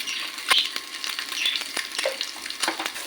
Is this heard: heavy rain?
no